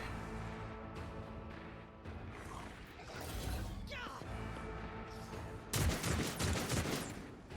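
Gunfire and mechanical clatter in the Warhammer 40,000: Rogue Trader video game, a muffled rattling fusillade with a louder crashing burst near the end, under a low game soundscape and some voices.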